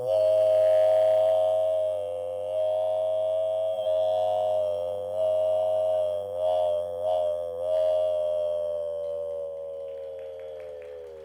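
A sustained, steady whistling tone from a human voice imitates a train whistle, held for several seconds with slight wavers, close and fairly loud.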